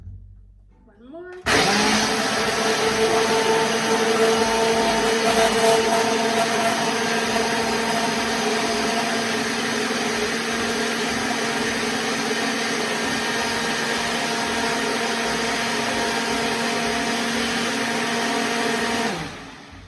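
A blender whirs steadily for nearly twenty seconds, chopping cilantro into a creamy cashew dressing, starting abruptly with a rising pitch and cutting off at the end.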